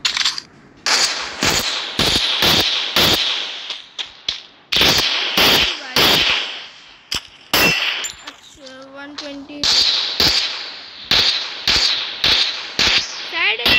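A machine gun fires in the Free Fire video game, loud bursts of rapid shots broken by short pauses, with a brief metallic mechanical rattle mid-way and no talking.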